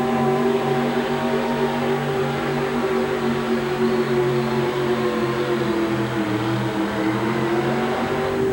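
Bigfoot monster truck engine at a truck pull at a 1988 indoor winter nationals event in Kansas City, a loud sustained revving drone with shifting pitch held throughout, no talk over it.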